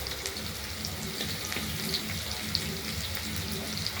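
Potatoes frying in a kadai give off a steady, close sizzle with a constant crackling hiss and scattered pops throughout, and no voice is heard.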